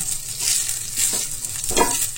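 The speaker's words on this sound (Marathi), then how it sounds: "हा जो राईस आहे आपण जो भात घातलाय तो आता मिक्स करून घेऊया, छान असा फ्राय करून घेऊया।" Garlic rice being stirred and fried in a pan, with a steady sizzle and scraping stir strokes swelling in a few bursts, close and alone without talk.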